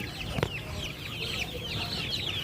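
Newly hatched chicks peep constantly in high, rapid chirps, many overlapping at once and close by, with a brief thump near the start.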